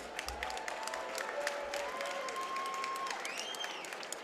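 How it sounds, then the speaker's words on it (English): Crowd applause and scattered cheering fill the arena after a caged MMA bout, a steady wash of clapping heard at a distance with a whistle-like tone rising above it. "All right, a round of applause for these two fighters."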